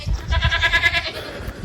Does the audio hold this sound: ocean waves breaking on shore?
no